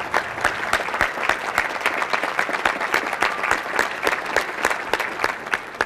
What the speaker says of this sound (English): give them the applause they so richly deserve